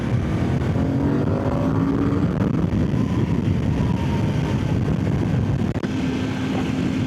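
A Voge DS800X Rally motorcycle engine runs steadily and loudly throughout, a continuous low drone with faint shifting pitch lines, no talk over it.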